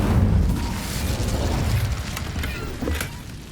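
Incendio fire spell blast in the Hogwarts Legacy video game, a loud low rumbling whoosh of flame that swells and fades over a few seconds with crackling bursts, heard alone with no speech.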